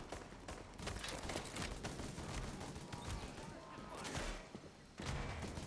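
An automated turret in The Division firing rapid bursts of gunfire in a dense, sustained rattle, with a voice talking over the shooting.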